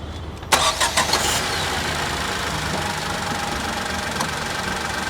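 Tata Nexon petrol car engine restarting: a burst of cranking and catching at the start, then a steady, slightly rough idle that continues evenly, close, with no talking over it.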